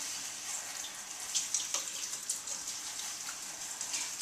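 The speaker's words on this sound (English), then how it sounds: "So we're going to really thoroughly rinse it" A hairpiece is rinsed thoroughly under running tap water, a steady hiss of flowing water with irregular splashes and drips as hands work it, fairly close and moderately loud.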